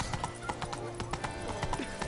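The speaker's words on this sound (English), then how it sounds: "Come on, Roach. Run, Roach." A horse gallops in the video game The Witcher 3, rhythmic clip-clopping hoofbeats at a quick steady pace over a continuous background bed.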